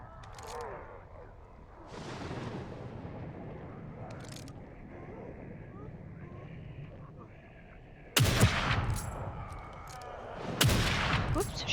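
Gunshots in The Evil Within 2, a pair of sharp loud blasts in the latter half with ringing tails over a murky game ambience.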